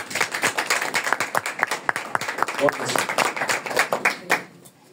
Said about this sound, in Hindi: ताली बजाएं इस बात के लिए।